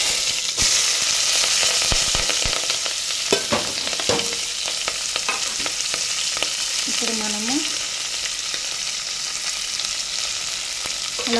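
Cumin and mustard seeds sizzling in hot oil while palak quinoa khichdi is cooked, a steady close fry with scattered pops, stirring clinks and a brief squeak.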